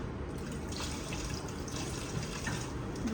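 Tap water running into a sink while dishes are washed, a steady close wash of flowing water with small splashes and drips throughout, no voices.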